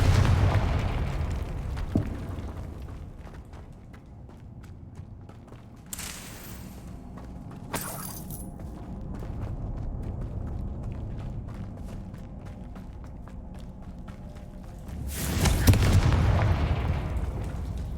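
Confringo blasting spell from the video game Hogwarts Legacy going off in several booming bursts, with a strong broad blast near the start and another loud one toward the end amid continuous game combat noise.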